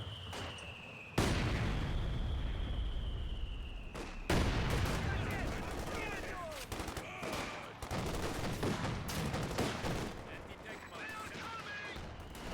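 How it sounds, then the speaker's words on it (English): Mortar blasts and rattling gunfire in a competitive video game match: sharp explosions land near the start and again a few seconds later, followed by bursts of rapid shots, under steady commentary. "Quite delayed mortar here for PAX, but kind of does the job here"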